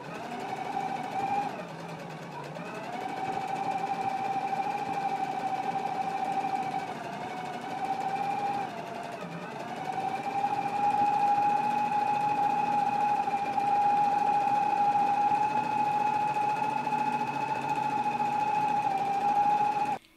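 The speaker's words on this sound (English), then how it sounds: "we can go ahead and take it to the machine, and we're going to stitch down both long ends of the carrier" A sewing machine stitches down both long ends of a fabric carrier piece, a steady close whirring hum that runs continuously with a couple of brief pauses, loud and alone.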